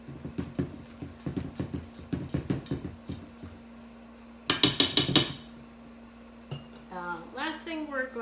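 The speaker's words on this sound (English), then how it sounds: "Let me just give this all a little scrape." A utensil scrapes cheesecake batter around a mixing bowl in a quick series of rhythmic clinks and scrapes, then a sharper burst of scraping, followed by a brief voice at the end.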